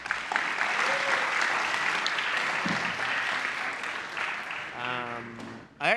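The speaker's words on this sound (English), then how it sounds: "All right, one more round of applause for all those coaches." Audience applause for coaches after a resume-writing workshop talk, a sustained round of clapping from a room that thins near the end, with talking over the tail.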